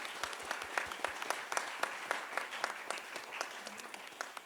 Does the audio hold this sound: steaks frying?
no